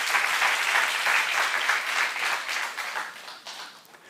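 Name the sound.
audience applause in church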